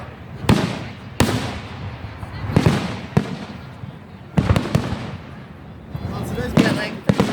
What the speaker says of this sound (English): These are expensive fireworks.